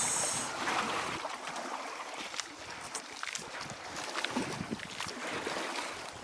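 A fishing boat moves across water with splashing, lapping sounds and wind buffeting the microphone, steady throughout.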